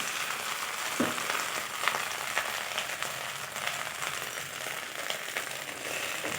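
Fresh coriander leaves sautéing in a pan, a steady close sizzle and crackle with a few clinks of a spatula against the pan, no voices.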